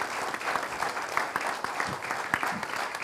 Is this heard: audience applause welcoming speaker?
yes